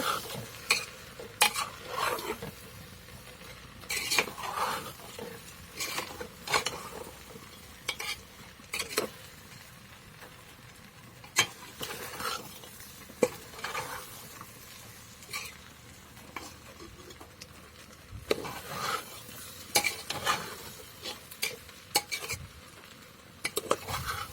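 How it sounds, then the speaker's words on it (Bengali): Meat frying in a pan with turmeric, cumin, meat masala and bay leaf for kesuri, as a spatula scrapes and clatters against the metal in irregular bursts over a continuous sizzle. "পাঁচ মিনিটের মতো ভাজি করে নেব"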